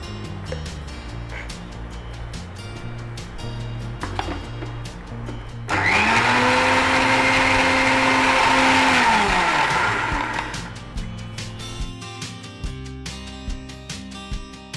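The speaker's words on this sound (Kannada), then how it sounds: "ಬೇಕಿದ್ರೆ ಇನ್ನೊಂದ್ಸಲ ಹಾಲು ಹಾಕಿ ಇನ್ನು ಸ್ವಲ್ಪ ಮಿಕ್ಸಿ ಮಾಡೋಣ" A mixer grinder whirs loudly for about four seconds, blending carrot milkshake with milk in a cooking-show kitchen, starting abruptly and winding down, with background music before and after.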